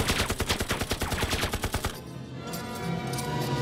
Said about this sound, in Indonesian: regu tembak Jepang mengeksekusi para tawanan Cina dengan kejam.